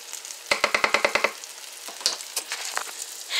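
Buttered sandwich frying in a pan, with a rapid burst of sharp crackling pops followed by a steady sizzle and scattered spits, close and fairly loud, with no talking.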